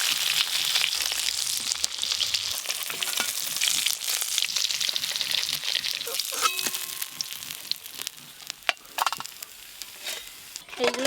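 Pieces of a 3.5 kg black carp sizzle and crackle in hot oil while being stirred, a steady close frying hiss with spatters and scraping, with a voice talking over it.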